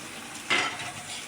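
Fried rohu fish pieces stirred into a simmering gravy in a pan: one short scraping swish over a soft, steady sizzle, close and quiet.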